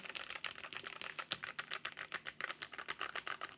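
Rapid, steady typing up close on a Royalaxe Y68 TKL mechanical keyboard, a continuous stream of light clicky keystrokes with no talking.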